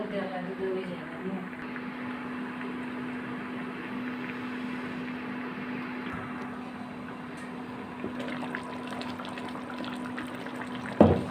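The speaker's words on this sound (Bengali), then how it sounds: "বলক চলে আসছে" A pot of beef curry coming to a boil on a stove gives a steady, low bubbling rush over a faint hum, ending in a sharp knock.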